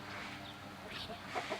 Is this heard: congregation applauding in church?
no